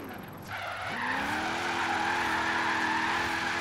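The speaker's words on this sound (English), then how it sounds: "this thing can drift with 750 horsepower" A 750-horsepower 2014 Chevy Super Sport drifting in Forza Horizon 3, its tires squealing in a long, steady, high screech over the engine's sustained roar, loud and close.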